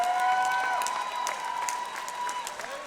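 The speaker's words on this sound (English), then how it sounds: "let's give both of these fighters a big round of applause" Crowd applause for two fighters after a Shamrock FC mixed martial arts bout, steady dense clapping with some cheering at moderate distance, continuing without a break under a faint tone.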